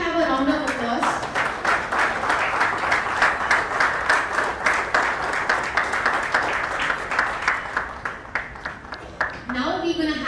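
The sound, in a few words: audience applause at an awards ceremony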